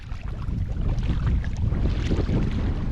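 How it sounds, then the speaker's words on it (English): Strong wind buffets the microphone on a fishing boat out on the water, a steady, heavy roaring rush with no talk. "No joke, the wind's blowing so hard right now."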